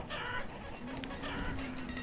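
Chickens in a farming video game give short, faint clucks and squawks over a soft background bed, a few brief calls bunched close together with no talking.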